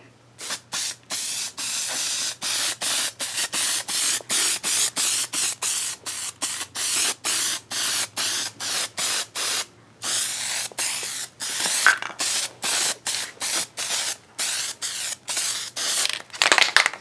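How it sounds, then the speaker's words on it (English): A spray can of adhesive hisses in a long series of steady bursts onto a board and foam, each a few seconds long and separated by short pauses, close and fairly loud. "We need to spray the board with adhesive"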